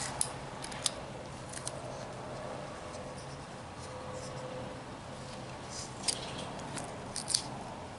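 A knife carving a wooden caricature kangaroo, giving a quiet run of faint scraping cuts with a few sharper clicks and snicks scattered throughout, close up over a low steady background hum.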